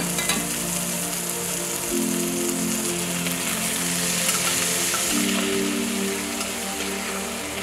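Meat sizzling in a hot pan with two crushed garlic cloves and a bit of butter, a steady loud frying hiss throughout with no talking.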